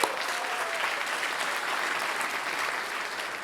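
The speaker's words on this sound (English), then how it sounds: "Can we have one more round of applause for our entertainment today?" Sustained audience applause at a city State of the City event in Buena Park, dense steady clapping from a large crowd with no speech, even in loudness for several seconds.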